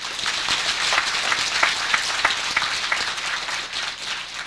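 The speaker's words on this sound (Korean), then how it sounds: "축하하면 박수 한번 치자고요" Congregation applauding at a church thanksgiving service for the opening of a retreat house, a dense steady wash of many hands clapping together, sustained and fairly loud throughout with no talk over it.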